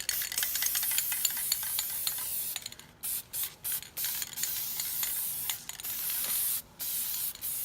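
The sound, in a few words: spray can spraying leaves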